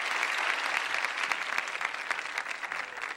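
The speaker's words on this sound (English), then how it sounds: "How about a round of applause for Eddie Kendricks?" Dense audience applause at a Motown event, a continuous, lively roar of many hands clapping together, full and fairly close, sustained without talk.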